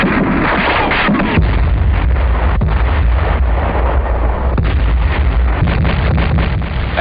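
World War II artillery fire in the 1945 hills campaign against entrenched positions, heard as a continuous heavy low rumble with dull booming thuds and wind-buffeted roar, loud and steady throughout with no speech.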